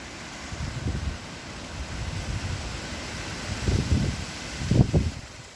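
Strong wind gusts buffet the microphone outdoors on a cloudy day, a low rushing roar that swells in heavier bursts toward the end, with no talking.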